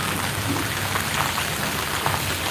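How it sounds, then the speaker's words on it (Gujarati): Steady rain hisses down in a dense, even patter with no other sounds standing out. "એટલે આ વરસાદ શરૂ થઈ જાય"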